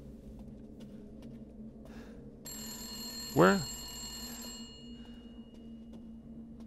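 A telephone rings in Resident Evil Village, a run of bright bell tones that holds for about two seconds. A louder rising electronic sweep cuts across it, all of it set over a game ambience, and a voice speaks briefly.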